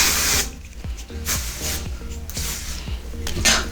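Short bursts of hair spray hiss close by, several quick sprays in a row over a faint mechanical hum.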